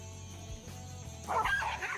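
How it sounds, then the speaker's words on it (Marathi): Several dogs coming along a path ahead yelp and bark in a short, close burst near the end, rising over a steady low hum with no talk. "समोरून किती कुत्रे आले बघा."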